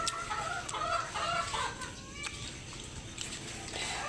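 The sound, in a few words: chickens clucking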